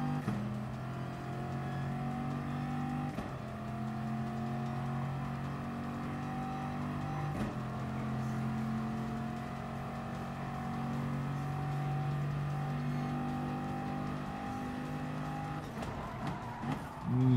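Group 4 race car engines at Monza in the GT Sport video game drone steadily with sustained tonal whine, dipping briefly under braking around corners before climbing again, loud and continuous without talk.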